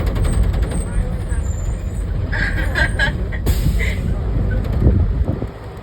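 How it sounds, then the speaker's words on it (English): A school bus drives across a ranch in Hawaii, its engine rumbling steadily and loudly with rattles and a short hiss, while a person talks over it. "I never thought I'd be driving a school bus on a ranch."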